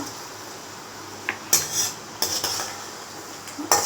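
Onions tipped into a pan of frying chana dal for masala dosa filling produce a few sharp clatters and scrapes of utensil on metal, with a faint sizzle underneath and no talking.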